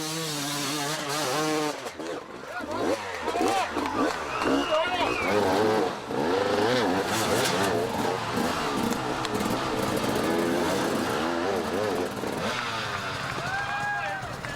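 Racing motorcycles rev hard on full throttle across rough, aggressive terrain, engines rising and falling continuously and loudly throughout, with a voice talking over the roar.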